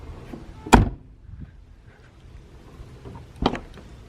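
A driver door on a barn-find Mazda RX-7 FC shuts once with a sharp, near thud, followed a few seconds later by a second softer clunk, in an otherwise quiet space.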